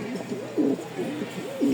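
Pigeons coo in a repeated rolling rhythm, several low throaty calls overlapping close by; the birds are a large pair of double-crested pigeons in a mixed flock of local and fancy breeds. No one speaks.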